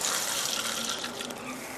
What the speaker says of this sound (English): we're going to take a small sample directly out of our faucets